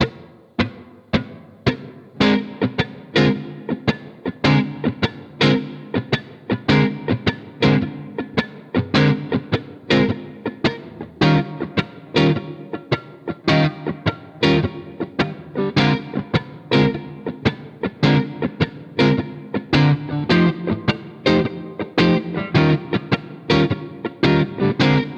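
An overdriven electric guitar plays a steady, shuffling rhythm groove through the three chords of a 12-bar blues, with dense, even strums repeating continuously for a long stretch and no voices.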